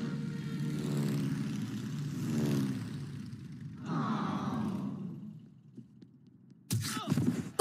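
A cartoon propeller airplane from Family Guy drones past with sweeping, shifting engine pitch that fades out around the middle, followed by a short loud burst near the end.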